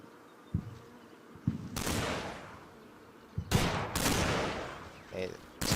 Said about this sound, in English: Okay, this machine gun crew. Let's put some fire over there.